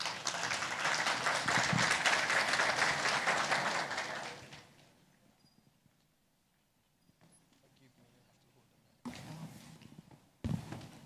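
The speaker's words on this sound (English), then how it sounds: "A round of applause for her." Audience applause at an awards ceremony rings out loud and dense for about four seconds, then fades to near silence before short bursts of clapping and shuffling return.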